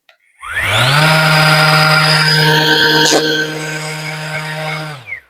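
A YATO YT-82206 sander spins up and runs steadily at its sixth speed with a loud, close, continuous whine, then winds down at the end.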